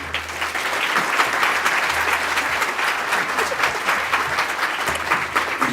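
Sustained audience applause at a City Club of Cleveland gathering welcoming Dr. Kathryn Edin, a dense, steady clapping that fills the room for several seconds with no talking over it.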